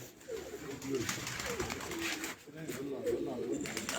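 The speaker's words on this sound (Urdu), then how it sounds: "یہ جی ایک پروازی کبوتر جو 11 پروازیں اڑا ہے" A racing pigeon on a Punjab rooftop gives soft low coos, close and faint, with a voice talking over them throughout.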